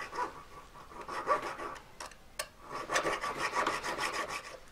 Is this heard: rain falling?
no